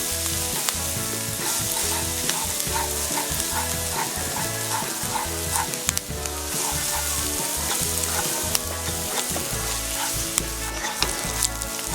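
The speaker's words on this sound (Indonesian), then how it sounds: "kita tambahkan bawang bombaynya. Kita tumis hingga layu dulu ya" Onions sautéing in a pan while making creamy mushroom pasta, a steady loud sizzle that runs the whole time, with scraping and stirring strokes on top.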